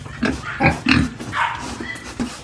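A pig grunts and snorts in several short, uneven bursts, close and fairly loud, with brief pauses between them and no one speaking.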